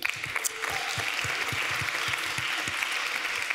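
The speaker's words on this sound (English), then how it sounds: "One more time, round of applause for Marcel, please." Applause from a conference crowd after an investor pitch on stage, steady clapping with a few louder claps standing out, continuing for several seconds without any talking.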